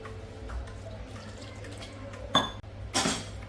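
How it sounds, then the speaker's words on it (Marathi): Chicken pieces are mixed with cornflour and water in a bowl at home, with soft stirring and a few sharp clinks of utensil against dish near the end. The sounds are close and fairly quiet. "आता हे मिक्स करून घेते चांगलं"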